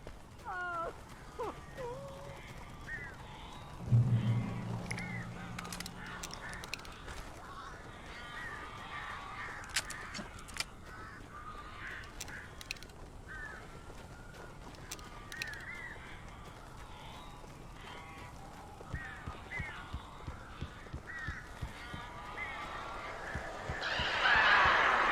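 Strange birds in the video game Alan Wake Remastered, sounding as scattered caws and harsh squawks over a dark, quiet game ambience, with a louder rustling burst early on and brief crackles near the end, no talk.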